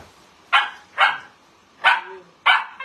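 A puppy barks four times in short, sharp yips spaced about half a second to a second apart, fairly close and clear against a quiet background.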